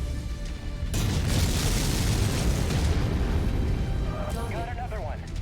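Heavy booms and explosive blasts from battling mechs in MechWarrior 5, a dense rumbling barrage starting abruptly and continuing loud for several seconds, with a voice talking over the later part.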